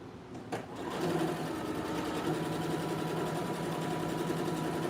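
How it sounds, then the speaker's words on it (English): A sewing machine stitches a skirt, its motor starting after a brief click and then running in a steady, fast, close whir throughout. "So I'm stitching this at least 3/4 inch from the side."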